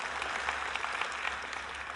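Steady applause from a seated audience after a talk, an even rush of many hands clapping at moderate volume, continuous throughout without speech over it.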